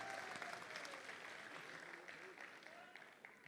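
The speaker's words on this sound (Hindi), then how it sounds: "जोरदार ये जो तालियों की रिमझिम है" Dense, steady applause from a crowd at a poetry mushaira in Dubai fills the whole stretch, with a faint voice underneath.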